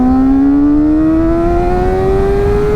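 A Kawasaki ZX-4R motorcycle engine screams at high revs, its pitch climbing smoothly as it winds up, loud and close, with no other sounds.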